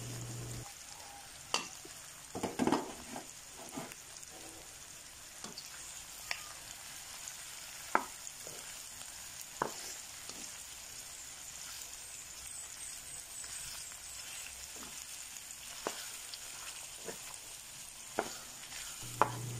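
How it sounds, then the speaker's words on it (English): Browned pork sautéing in a pan for pork adobo with pineapple, a low steady sizzle with scattered clicks and scrapes of a utensil stirring, quiet and close. "Saute for a minute."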